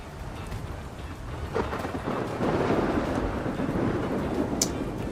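Rain and thunder weather from the video game Ark Survival Ascended: steady rainfall with a rolling thunder rumble that builds midway and stays fairly loud, with no talking.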